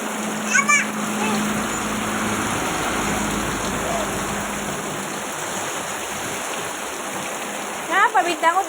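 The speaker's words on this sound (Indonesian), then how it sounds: "Dingin air hujannya. Lebat." Heavy rain pours down steadily in a dense, close wash while a child splashes about in it, and voices break in briefly at the start and near the end.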